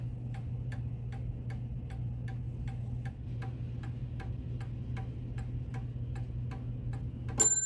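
A restored 1904 Gilbert antique mantel clock ticks in a steady, even rhythm of about two beats per second, close and clear over a low hum, ending with a brief louder metallic sound.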